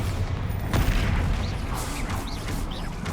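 Bombarda blasting-spell explosions in Hogwarts Legacy during a fight with a loose troll, heard as dense, loud booming bursts crowding the whole clip with whooshing spell effects over them.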